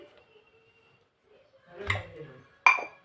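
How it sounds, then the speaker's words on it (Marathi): A metal wok (kadhai) set down on a gas stove gives a soft knock and clatter, then a sharper metallic clink a moment later, both close and brief against a quiet background. "आता या गॅसवरती आपण कढई ठेवू"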